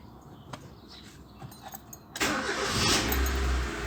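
A car with about 115,000 km on it turns over and catches at roughly two seconds after faint key jangles and clicks, then settles into a smooth, steady idle, heard close by with no talking.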